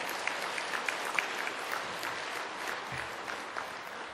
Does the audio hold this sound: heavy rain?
no